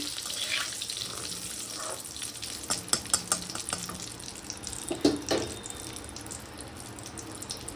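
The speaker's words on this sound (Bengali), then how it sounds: "এবার এই তেলে কিছুটা পরিমাণে কালো জিরা ফোড়ন দিয়ে দিলাম। আবারও একটু নাড়াচাড়া করে নিচ্ছি।" Nigella seeds sizzle in hot oil, with a steady fry hiss and a run of sharp crackles and scraping clicks as they are stirred in the pan.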